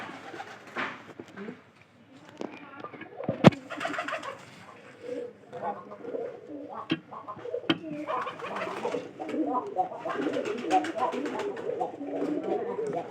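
Pigeons at a loft, a new pair among them, cooing softly in repeated low bursts close by, with someone talking throughout and a sharp knock partway in.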